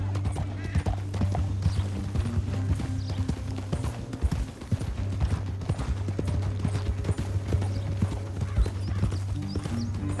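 Horse hooves galloping in the video game Red Dead Redemption 2, a steady rapid clip-clop rhythm near and clear over a low droning score, with a brief whinny and no talk.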